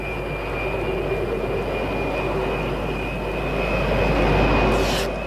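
Aircraft engines spooling up to a steady, loud roar with a sustained whine, a broad continuous rumble that swells slightly toward the end, with no voices over it.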